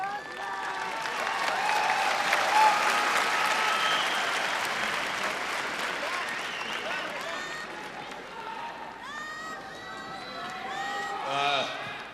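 A big crowd at Saitama Super Arena during a Pride 34 fight event applauds continuously, swelling and easing over several seconds, with scattered shouts and a voice faintly heard near the end.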